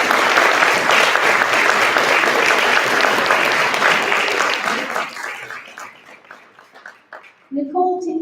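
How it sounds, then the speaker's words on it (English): A loud crowd at a high school awards ceremony claps in sustained applause for students that gradually fades out, followed by a voice speaking. "Can we have one big round of applause for our wonderful students?"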